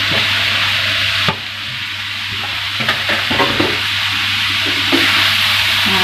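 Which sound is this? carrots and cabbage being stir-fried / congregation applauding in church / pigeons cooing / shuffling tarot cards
carrots and cabbage being stir-fried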